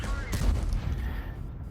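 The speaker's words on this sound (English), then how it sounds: "Does a blind shot towards him as the target disappears" A single tank cannon shot fired blind in a video game, a heavy boom with a rumbling tail, under a faint voice.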